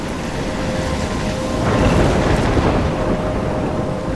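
Thunderstorm in the video game Life Is Strange: steady heavy rain with a deep rumble of thunder swelling midway, loud and continuous, no voices.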